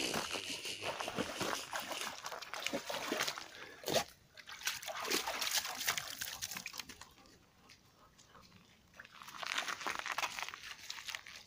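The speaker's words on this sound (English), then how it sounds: "I can see splashes." Water splashing outdoors, irregular splashes and crinkly trickling that fade to near quiet midway and then pick up again, fairly soft and without talk.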